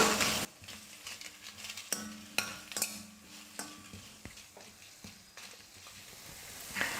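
Onions and tomatoes sauté in a pan, a soft, fairly quiet sizzle punctuated by intermittent clinks and scrapes of a spoon stirring against the metal.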